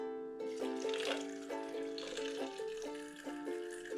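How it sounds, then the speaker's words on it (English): Water pours steadily into a plastic bottle fly trap holding chopped apple bait, giving a continuous close trickle with a ringing, rising tone as the bottle fills. "And then I'll add a little bit of water to the mixture here."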